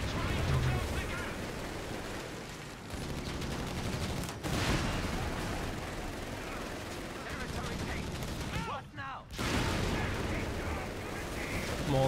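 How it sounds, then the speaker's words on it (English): Small arms gunfire crackles through a World War II-style strategy video game battle, dense and continuous across the clip with brief dips, heard alongside commentary voices. "Small arms fire"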